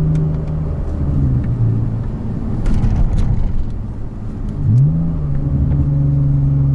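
Manual-transmission car engine blipped during downshifts: a steady mid-pitched idle and cruise hum broken by quick rev spikes that swoop up and settle back, heard close and fairly loud with no talking.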